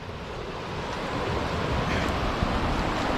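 Water rushing over rocks in a stream at Kanchanagiri Hills, a steady broadband wash with some wind buffeting on the microphone, continuous and fairly close throughout.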